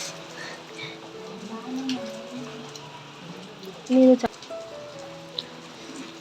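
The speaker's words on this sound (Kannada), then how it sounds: "ಫುಲ್ ಮಳೆ ಹತ್ತೈತ್ರಿ" Heavy rain falls steadily outside a village home, a soft constant patter beneath a person talking close by throughout.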